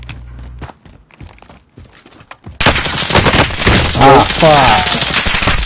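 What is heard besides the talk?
gunfire in a PS4 video game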